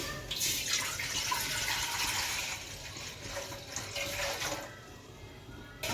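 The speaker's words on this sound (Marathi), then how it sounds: "तर आता मी टोपात घालून घेते पाणी" Water pours steadily into a cooking pot in a home kitchen, a continuous splashing rush that briefly eases near the end, close and fairly loud with no talking.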